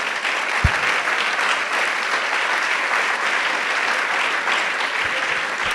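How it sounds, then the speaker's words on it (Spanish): A church congregation applauds during a sermon, a sustained and fairly loud wash of clapping hands that holds steady throughout. "Vamos a darle un aplauso al Señor"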